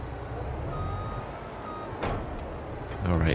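A truck in Farming Simulator 22 backing up toward a trailer, its engine droning steadily under faint beeping, then a louder burst of rapid reversing beeps right at the end.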